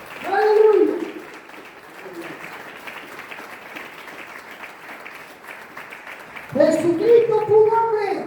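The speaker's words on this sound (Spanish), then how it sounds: "Dale un aplauso al Señor administrador." A church congregation applauds for several seconds in a steady, even wash of clapping, with a voice speaking just before and again right after.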